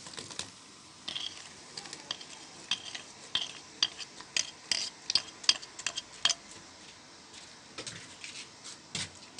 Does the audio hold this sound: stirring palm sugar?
yes